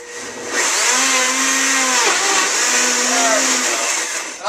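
A blender purees kale soup with a loud, steady motor whir that starts abruptly and holds, its pitch dipping and rising as the contents churn.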